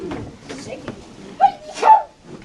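In a sixth-grade classroom, one sharp sneeze bursts out close by, set against quiet room noise and a few soft voices.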